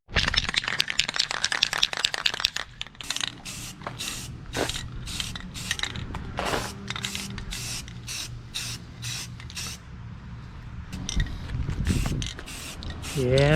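Spray can of primer paint hissing outdoors in short repeated bursts, near and loud, with rattly mechanical clicks between passes and a brief voice near the end.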